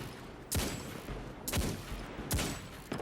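Video game weapon shots ring out at a slow, regular pace of about one per second, four sharp blasts with short tails, instead of the usual continuous full-auto stream.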